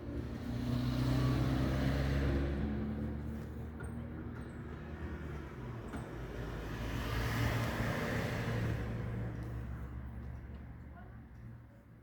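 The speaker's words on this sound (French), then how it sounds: "Le défilé de bagnoles qui passe devant la fenêtre" A steady stream of cars passing by on the street outside a window, heard indoors as a continuous swelling rumble and hiss, with one vehicle after another rising and fading, moderately quiet.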